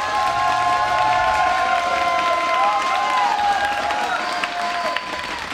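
A live esports crowd at a StarCraft 2 WCS America semifinal applauds and cheers steadily for the Terran player Bomber. The ovation is loud and sustained throughout, and a faint tonal melody plays underneath.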